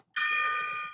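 A bright metallic gong-like sound effect rings out once, struck sharply and then sustaining with a slow fade, alone and clear.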